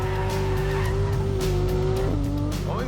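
A Porsche 911 GT3 RS engine wails at high revs through a fast corner, holding a steady loud tone before a quick drop and rising note near the end, close by with faint tire squeal.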